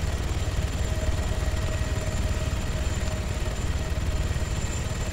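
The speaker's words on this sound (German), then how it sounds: "Oh, das ist der nächste Heli." Helicopter in the Arma 3 Altis Life game, a steady rotor and turbine whir with a thin high whine, held at moderate level throughout with no voices.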